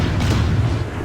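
Mortar fire in Assassin's Creed IV, a deep rumbling boom that fills the whole second with a sustained low roar and no distinct separate shots.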